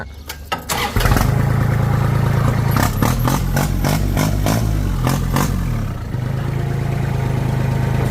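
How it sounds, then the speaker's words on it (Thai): A Kubota L3408 tractor's diesel engine cranks and fires up after a second of clatter, then settles into a loud, throbbing idle through a free-flowing loud exhaust, with a few revving surges. "อ่ามาฟังเสียงเครื่องยนต์ อันนี้จะเป็นท่อดังๆหน่อยนะครับ"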